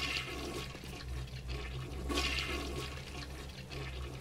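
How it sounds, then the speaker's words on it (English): A toilet flushes in the video game BioShock Remastered, a loud rushing gush of water that swells and churns steadily for several seconds with no voices. "Does anything special happen if I flush all the toilets?"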